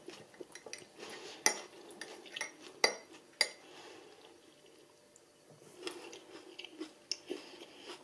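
Lunch eaten with pesto: metal cutlery clinks and scrapes against a dish, along with soft close chewing and a few sharp taps, quiet and intermittent with no talking.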